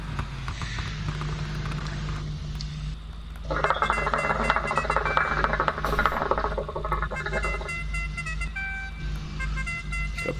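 A new car horn in NFS Heat gives a few sustained toots over a steady engine drone, loud and close, with the middle blast held longest.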